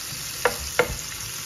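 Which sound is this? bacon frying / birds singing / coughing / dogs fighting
bacon frying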